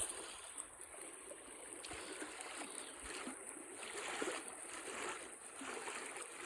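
River water flows steadily as a broad, even wash of moving water, close and continuous, with a slight surge partway through and no voices.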